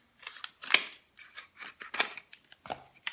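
Scissors snipping open a Maybelline Snapscara mascara package, a series of short, crisp cuts in an irregular rhythm, close and fairly quiet, with no talking.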